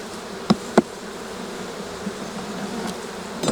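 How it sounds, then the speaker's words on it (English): Honey bees at an open hive during a swarm-cell inspection, a soft steady buzzing held low and even throughout, with a couple of brief clicks near the start and some handling noise toward the end. "A few bees here."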